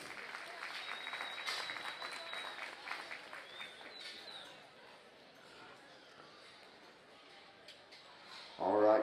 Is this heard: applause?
yes